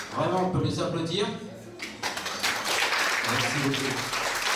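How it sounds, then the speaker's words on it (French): A voice speaks briefly, then an audience at a French school event breaks into sustained applause that fills the rest of the moment. "Vraiment, on peut les applaudir"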